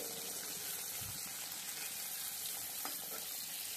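Whole hilsa fish fry in hot oil with a steady, dense sizzle and faint bubbling that holds at an even level throughout, with no talking.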